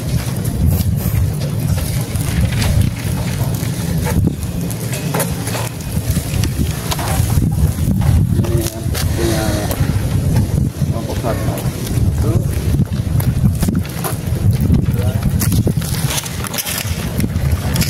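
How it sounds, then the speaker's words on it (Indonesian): Strong wind buffets the microphone outdoors during a school physical education lesson, a loud, continuous rumbling roar with gusty swells that persists throughout, with faint voices underneath. "Anginnya banyak banget ya."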